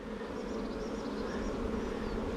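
Honeybees buzz steadily at an open hive during an inspection, a dense continuous hum from many insects close by with no talking.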